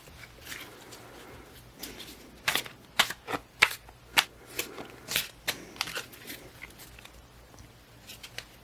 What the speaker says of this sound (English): I've been shuffling these cards under the table where you can't see them